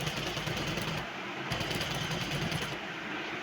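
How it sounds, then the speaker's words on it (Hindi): A sewing machine stitches lace onto a frock with a steady, close mechanical whirring that pauses briefly twice before running on. "यहाँ पर इसके ऊपर थोड़ी सी लेस चढ़ाएंगे और सिलाई करेंगे"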